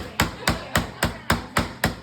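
Seven sharp hammer blows land at a steady, even rhythm, each a crisp close impact with a short ring.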